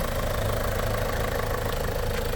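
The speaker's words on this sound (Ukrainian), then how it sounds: "Двигунчик працює. Ні грюкоту, ні шелесту немає." A Renault K9K diesel engine idles with the hood open, a steady, even running hum with no knocking or rattling, close and continuous throughout.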